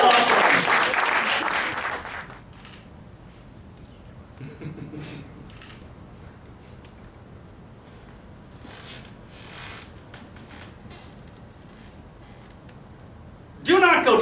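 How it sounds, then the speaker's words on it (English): An audience at a poetry and music performance bursts into dense applause that fades after two seconds, leaving quiet room sounds with faint shuffling, then applause erupts again briefly at the end. "Give yourselves a round of applause."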